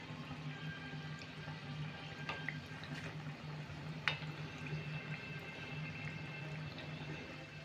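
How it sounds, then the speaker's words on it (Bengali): Khaja pastry fries in hot oil while more oil is spooned over it, giving a soft, steady bubbling sizzle with a few sharper crackles and pops, faint and close, with no talking. "এবার আমরা উপর থেকে একটু একটু করে তেল দেব।"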